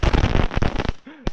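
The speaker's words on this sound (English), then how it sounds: "that's just a sky bomb" A Fourth of July sky bomb firework goes off in a single sharp, loud bang right after a burst of excited talking.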